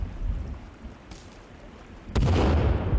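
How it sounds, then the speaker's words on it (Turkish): A hand grenade in a video game goes off with a sudden loud, deep boom partway through, followed by a sustained rumbling roar, after quieter background noise. "Harbiden el bombasıymış,"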